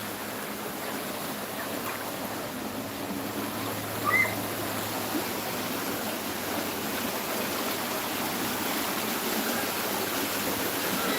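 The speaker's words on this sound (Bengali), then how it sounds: "তো দেখেন আমাদের বাড়ির মধ্যে কীরকম জোয়ারের পানি যাচ্ছে মানে নদী ভাঙার পানি আর কি" Floodwater from a river breach rushes past a village house, a steady broadband roar of flowing water, faint and continuous, with no voices.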